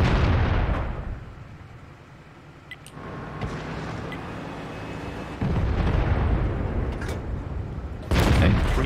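Booming tank cannon shots in the World of Tanks game from the Lowe tank destroyer, heavy blasts with rumbling tails that land at intervals over a continuous engine and battlefield drone.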